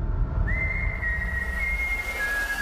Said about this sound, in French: Maldoror avec ce sifflement qui fait un peu peur quand même